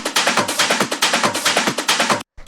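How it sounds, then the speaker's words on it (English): Old-school rave loops and techno samples play alone, a fast, punchy repeating pattern of bright, busy hits at a steady tempo, loud and dense, cutting off abruptly just before the end. "Then we have these old school rave loops"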